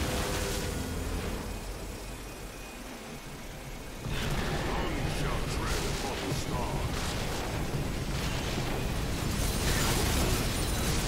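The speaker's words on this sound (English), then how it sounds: "Red Team's turret has been destroyed." A turret is destroyed in a League of Legends match, a loud crumbling burst of explosive debris and mechanical clatter that jumps up midway and stays dense over steady game noise, with an announcer voice speaking.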